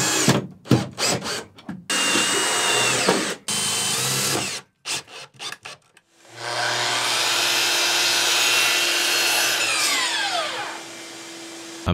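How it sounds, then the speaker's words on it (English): A power tool drives bolts through a support piece into the wall of a cargo van being converted into a camper, loud close whirring bursts that stop and start, then a long sustained drilling run with no talk. "I'm bolting this piece into the wall to act as a support for the bed later on."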